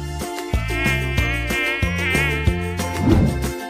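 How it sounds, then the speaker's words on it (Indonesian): A high, whining housefly buzz drones close to the ear, wavering in pitch over soft background music, lasting a few seconds. "Lalat."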